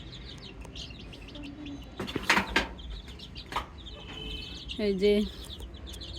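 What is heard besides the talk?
chicks chirping in a poultry shed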